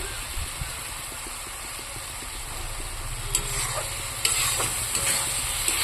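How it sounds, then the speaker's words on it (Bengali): Spice masala fries in oil in a pan while being stirred, giving a steady close sizzle broken by scraping stir strokes that grow slightly louder toward the end; no one speaks. "দেখুন মশলাটা ভাজা ভাজা হয়ে এসছে"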